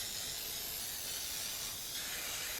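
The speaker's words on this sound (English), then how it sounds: "I'm going to spray it with some nonstick cooking spray" Nonstick cooking spray with flour hisses into a baking dish in one continuous close, steady spray lasting a couple of seconds.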